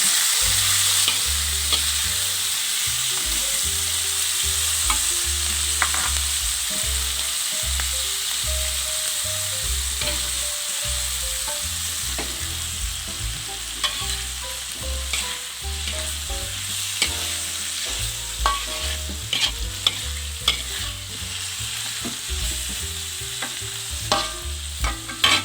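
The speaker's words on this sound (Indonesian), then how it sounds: "Bila sudah matang, masukkan dagingnya dan kita oseng." Beef stir-frying in a hot wok gives a loud, continuous sizzle, with scraping and clanking of the stirring utensil throughout and no voices.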